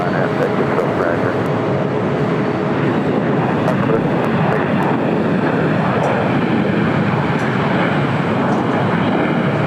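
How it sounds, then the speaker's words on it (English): A LATAM Cargo Boeing 767-300ER in special livery taxiing on the south complex at LAX, a steady broad jet engine roar held at an even level, with no pauses and no talk. "This is Latama Cargo, special livery 767 at 300 ER, heading up to the northeast corner of the South Complex here at LAX."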